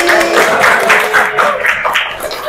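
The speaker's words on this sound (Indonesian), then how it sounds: "Tepuk tangan untuk kita hari ini." Students applaud together in a junior high school classroom at the end of a biology lesson on the digestive system, a dense, steady patter of many hands clapping nearby for a couple of seconds.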